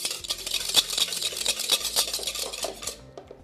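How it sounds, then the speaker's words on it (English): Sugar, vanilla and a pinch of salt whisked together in a bowl, a rapid close run of light metallic clinks and swishes that stops abruptly near the end, with no talking. "And let's whisk that all together."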